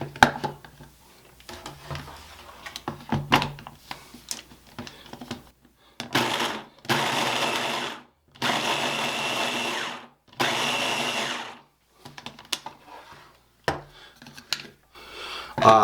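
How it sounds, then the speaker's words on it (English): Food processor pulsing pie crust dough with butter pieces for a lemon meringue pie: several loud whirring bursts of a few seconds each, separated by pauses, with quieter handling sounds before and after. "we're going to pulse this to break up the pieces of butter"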